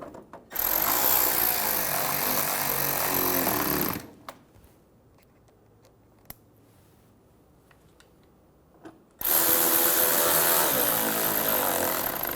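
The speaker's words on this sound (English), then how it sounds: "Install the screws in the front of the fender liner." A power tool whirs loudly while driving screws into the front of a plastic inner fender liner on a 2012-2020 Chevrolet Sonic, with two long bursts separated by a quiet pause with a few small clicks.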